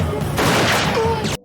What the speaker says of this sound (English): Michael barely escapes, crawling away from the gunfire.